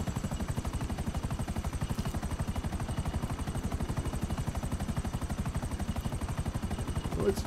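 Buzzard attack helicopter from GTA 5 Online in flight, a steady rapid rotor chop with engine drone running loud and continuous throughout.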